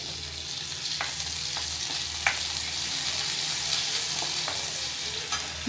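Chillies coated in gram flour batter deep-frying for mirchi bara, giving a steady, dense bubbling sizzle with occasional faint clicks of a utensil against the pan, no voices.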